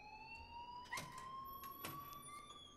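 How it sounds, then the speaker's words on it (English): Alarm ringing in the video game Life Is Strange, a steady, faint electronic tone that holds throughout, broken by a couple of brief knocks. "please turn off that alarm since that's your job"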